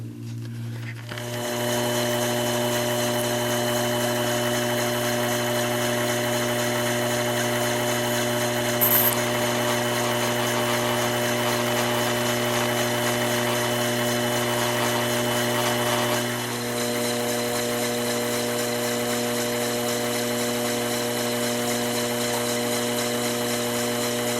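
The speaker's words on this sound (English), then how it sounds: "I'm going to take these and all of these gears now, I'm going to put them in the lathe and polish the pivots on them" A lathe runs with a steady, tonal motor hum while the pivots of brass cuckoo clock gears from an 8-day Hubert Herr clock are polished, continuous and close with a faint brief scrape partway through and no talking.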